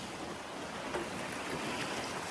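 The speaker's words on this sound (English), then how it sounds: "So now the wind is picked back up." Wind and water rushing past a sailboat running at about six knots under full sail with the motor off; a faint, steady wash of noise with no voices.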